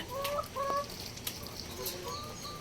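Hens on a poultry farm cluck in the morning, a few short close clucks and a rising call over a low background hum, brief and moderately loud.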